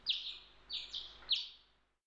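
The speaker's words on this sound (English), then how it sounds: "I think some birds got in this room." Game birds chirp indoors in the RPG Maker title Hand in Hand: three crisp, high double tweets spaced evenly, near and alone, fading out quickly at the end.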